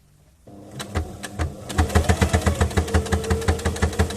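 A sewing machine stitches a fabric face mask, starting slowly and building into a fast, steady mechanical chatter of rhythmic needle strokes, close and loud with no talking.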